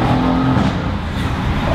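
Twin-turbo engine of a Mercedes-AMG C63 S revving, a loud, steady, broadband roar held close by for nearly two seconds with no break or talk.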